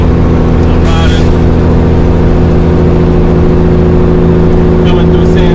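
Cabover Peterbilt 362 truck rolling along a highway, its engine droning steadily with a constant low hum and road rumble throughout, loud and close, with faint brief higher noises near the start and end.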